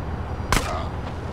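A single sharp gunshot from GTA San Andreas gameplay, a short loud crack partway through over a steady background of game noise.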